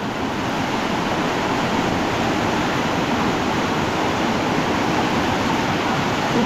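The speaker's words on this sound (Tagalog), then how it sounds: "Grabe po yung agos po, ang lakas." Strong river current rushing hard and steadily close to the microphone, a dense broadband roar of churning water that holds constant with no voices over it.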